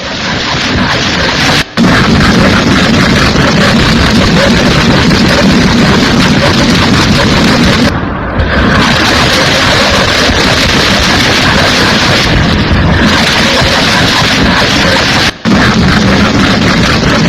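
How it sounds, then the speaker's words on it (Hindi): Night missile strikes from Iran's attack on Israel, heard as a loud, dense roar of booms and blasts running almost continuously, with a few brief dropouts. "ये वो तस्वीरें, एक के बाद एक सैकड़ों मिसाइलें दाग दी हैं।"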